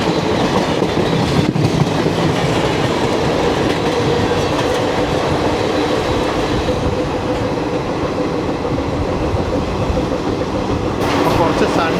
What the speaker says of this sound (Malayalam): വാസ്കോഡ ഗാമ സെക്കന്ദരാബാദ് എക്സ്പ്രസ് ആണ്.